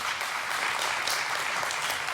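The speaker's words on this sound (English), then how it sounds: "A round of applause, please, for Ken and his excellent presentation." Audience at an information security conference session applauding after a presentation: sustained, even applause from a room full of people, moderately loud, with no talking over it.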